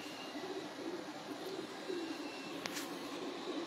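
Old-breed pigeons cooing softly in low, repeated rolling calls, faint and slightly distant, with a brief sharp noise partway through.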